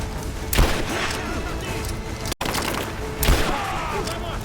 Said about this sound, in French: On subit des pertes. Tire concentré.